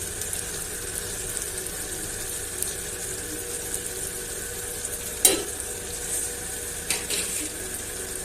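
Chopped onions and cumin sizzling in hot oil for a tempering, a steady bright frying hiss with a couple of sharp stirring clatters, no voices.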